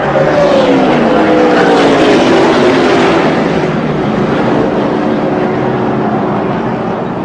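NASCAR stock cars roaring past in a large pack at a superspeedway race, a loud continuous engine drone with pitch sliding downward as the field passes, sustained and dense with no pauses.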